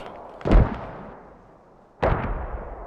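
Two heavy artillery impacts in the tactical shooter Squad land about a second and a half apart, each a sharp blast followed by a rolling, decaying rumble, moderately distant and with no talking over them.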